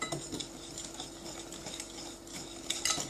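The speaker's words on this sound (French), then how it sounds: "D'abord, on va continuer à mélanger encore un tout petit peu." A spoon or whisk stirs yogurt cake batter in a bowl, with steady scraping and clinking strokes, close and fairly quiet, with no talk.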